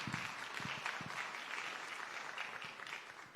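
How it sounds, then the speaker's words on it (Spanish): An audience applauds after a lecture at an international summer course, with steady, even clapping that sounds faint and somewhat distant throughout. "Un aplauso, por favor"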